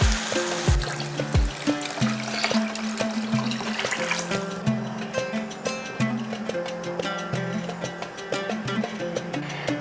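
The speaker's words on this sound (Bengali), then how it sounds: "তার জন্য আমি এখানে 5 কাপ জল দিয়েছি।" Water pours into a pot of rice and lentils in a continuous gurgling stream, splashing and bubbling up close throughout.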